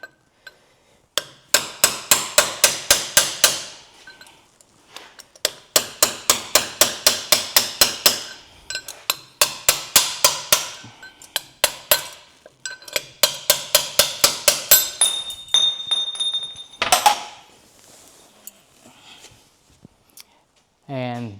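A steel punch is hammered to drive out a bearing race from an 80 Series Land Cruiser front differential, with bursts of rapid metallic blows in four long runs, close and loud, then a brief shop clatter at the end.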